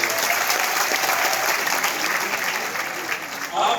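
Steady, dense applause from an audience at a university event fills the whole stretch, loud and continuous, with a brief swell near the end.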